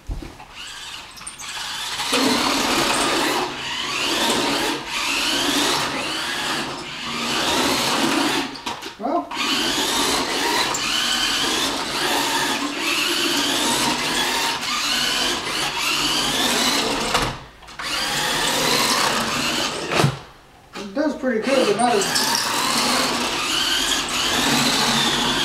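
A toy-grade Subaru RC car with a 7.2 volt battery drifting on an indoor floor, its small electric motor giving a loud, high buzzing whine that surges and cuts out in short bursts.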